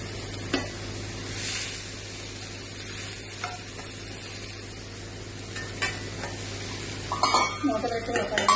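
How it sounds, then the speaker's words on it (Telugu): Amaranth stems with salt being stirred in a pan, giving a soft, steady sizzle with occasional scrapes and a few louder clinks near the end. "ఇదంతా కూడా మంచిగా కలుపుకొని కొంచెం సాల్ట్ వేసి మూత పెడితే చక్కగా మగ్గుతుందండి ఇది."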